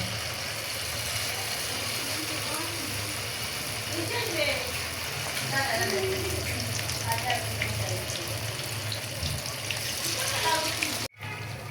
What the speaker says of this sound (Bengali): এইভাবে আমি বাকি সব বেগুন ভাজি কইরা নেব।